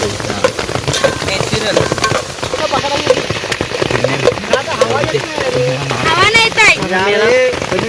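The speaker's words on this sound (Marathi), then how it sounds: "बघा कसला पाऊस आलाय, जबरदस्त पाऊस आलाय" Heavy monsoon rain pours beside a creek with a constant dense hiss and spatter while a person talks over it, the voice rising toward the end.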